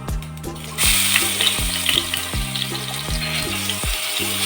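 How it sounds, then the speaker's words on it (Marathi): Cumin, asafoetida and ginger-garlic paste fry in hot oil for chana chaat, a loud, close, continuous sizzle that starts abruptly, with regular spoon clacks against the pan throughout. "आता तेल गरम झालेलं आहे आता मी त्याच्यात जिरा टाकणार आहे"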